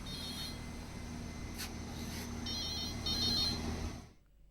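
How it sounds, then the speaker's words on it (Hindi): A faint electronic phone ring trills in short repeated bursts over a steady background hum, then fades out. "ऑफिस के फोन में घंटी बज रही है"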